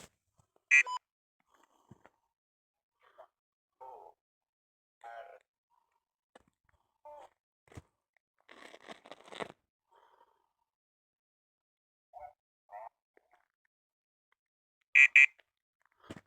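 Ghost hunting equipment gives out sparse, random electronic beeps, short and faint, scattered irregularly across a very quiet room with long silent gaps.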